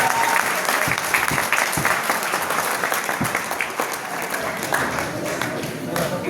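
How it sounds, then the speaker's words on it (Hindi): Loud, sustained applause from a large audience at a Happy Health India stage event, dense clapping filling the whole stretch with crowd noise mixed in. "तीनों के लिए जोरदार तालियां"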